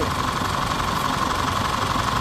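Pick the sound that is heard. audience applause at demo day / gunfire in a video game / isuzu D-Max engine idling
isuzu D-Max engine idling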